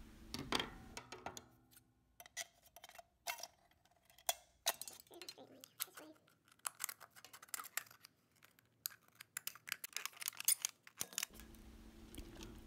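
An aluminum can is cut open by hand for a DIY craft, making quiet, irregular metallic snips and clicks close by, scattered unevenly with short pauses between cuts.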